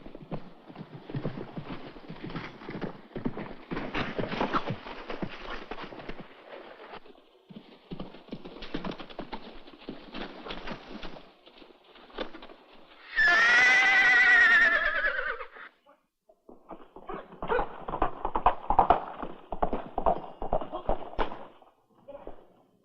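A horse's rapid hoofbeats clatter in bursts, broken by a loud, shrill whinny in the middle, then more galloping hooves follow.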